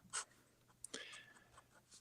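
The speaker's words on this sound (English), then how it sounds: "I'm actually using a calligraphy pen nib." A calligraphy pen nib scratches across paper in quiet, brief strokes, faint and close, with a few short scrapes spread over two seconds.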